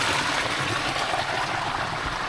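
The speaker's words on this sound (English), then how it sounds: "Water is coming from here." Natural spring water flows steadily out of the ground in a village, a continuous close trickling and gurgling rush that stays even throughout with no voices.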